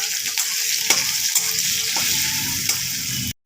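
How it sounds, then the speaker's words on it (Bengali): Chopped garlic fries with a steady, bright sizzle in a hot pan while a utensil stirs it, giving scraping clinks now and then before the sound cuts off. "রসুনটা দেখুন হালকা হালকা লাল লাল ভাজা হয়ে গেছে"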